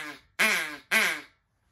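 A DUX Waterfowl duck call blown to imitate a duck quack, giving two loud, close, drawn-out nasal quacks in succession with a short gap between them and no talking.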